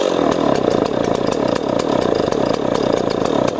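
A chainsaw engine runs after its carburetor has been taken apart and repaired, a loud, close, steady buzzing idle with a fast pulsing rhythm throughout and no talking.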